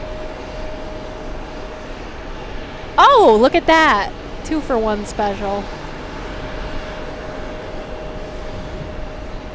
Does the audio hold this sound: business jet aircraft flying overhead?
yes